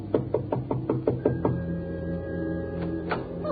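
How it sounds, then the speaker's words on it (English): Knocking on an office door in an old radio crime drama, a quick series of about eight sharp, evenly spaced raps close by, followed by a quieter hum with no talk. "she went over and knocked on the door"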